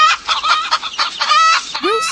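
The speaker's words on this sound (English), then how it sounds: "Hen. Hen." A hen clucks in a quick run of short, throaty calls, close and loud, ending in a higher rising squawk.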